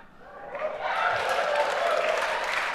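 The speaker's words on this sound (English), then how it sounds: "The crowd doesn't know when to clap" A live crowd at a Destiny 2 reveal event breaks into applause that swells from quiet into dense, sustained clapping and carries to the end, with no one speaking over it.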